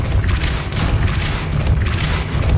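Depulso, a force-push spell cast in the Hogwarts Legacy video game, lands as a loud, dense boom with a rolling low rumble that swells and recedes across the moment, with no voices.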